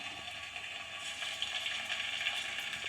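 Paneer pieces fry in a little oil in a kadai, giving a steady, soft, continuous sizzle that swells slightly midway, with no talk.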